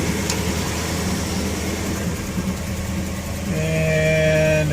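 1957 Studebaker Golden Hawk engine idles steadily at about 1200 RPM, a close, even mechanical hum that runs throughout and grows a little fuller near the end.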